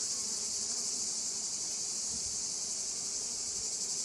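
Honey bees buzzing at an opened hive during an inspection, a steady, continuous, fairly faint hum of many insects with no talk.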